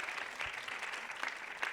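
Applause for the organiser of a women's rights forum in Geneva, a dense burst of clapping from an audience that is sustained and fairly loud.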